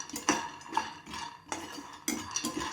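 Peanuts and sesame seeds roast in a pan with a little ghee for sesame laddoos, giving quick scraping stirs and light clinks of a utensil against metal in uneven bursts, close and fairly loud.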